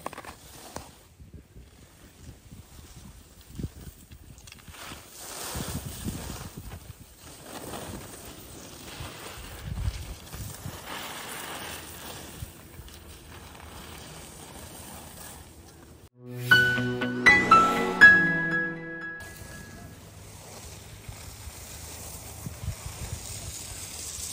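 Skis scrape and chatter over an icy, glazed snow surface during turns at Bromont, Quebec, with a steady hiss and a louder grinding burst partway through.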